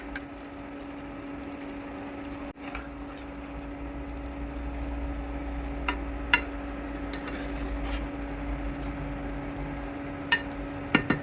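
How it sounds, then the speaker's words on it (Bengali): Curry broth for tapsi fish simmers in a pan with a soft, steady bubbling over a low constant hum, broken by a few faint clinks. "ঝোলটা ফুটতে শুরু করেছে"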